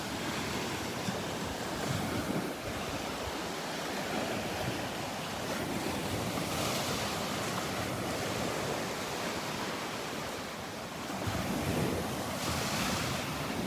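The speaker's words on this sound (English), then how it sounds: "The waves breaking on the sandbar out there." Surf breaking on a sandbar off a Gulf beach at Delnor-Wiggins park, a steady far-off roar of waves with soft swells rising and falling, wind buffeting the microphone throughout.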